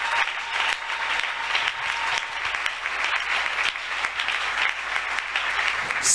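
A church congregation claps steadily and loudly in acclaim of the Lord during an evening service, a dense, even wash of applause throughout.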